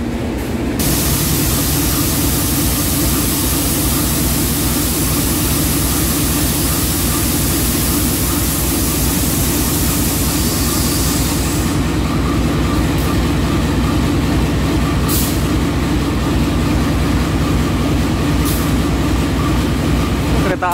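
At a station on the Kaligung train route, a loud, continuous rumble and hiss of railway noise persists, with a few sharp clanks late on as a vintage shunting locomotive is worked on during uncoupling.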